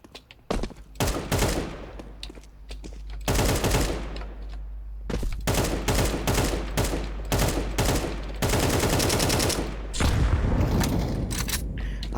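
Rapid gunfire bursts from Counter-Strike: Global Offensive, loud and dense across most of the stretch, with repeated volleys, short pauses and booming impacts.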